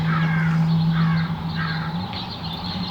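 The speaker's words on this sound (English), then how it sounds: "Do you guys hear the birds chirping?" Crows caw outside in the morning, a few harsh repeated calls at moderate distance over a steady droning background hum.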